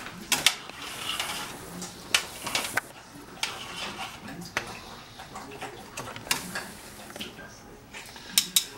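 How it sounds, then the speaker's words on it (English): Beef shanks in burgundy wine being stirred in a pot, with irregular scraping and clinking of a utensil against the pot over a low background, close and fairly quiet. "I'm going to give this a quick stir"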